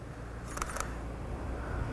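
SLR camera shutter during an indoor studio photo shoot, two quick mechanical clicks close together near the mic over a low room hum.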